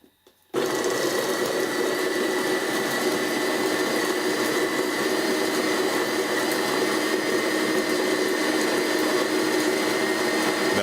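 A Capresso Infinity burr coffee grinder set to a fine grind runs on coffee beans, starting abruptly after a brief pause and then holding a loud, steady whirring drone with a constant gritty texture close to the listener.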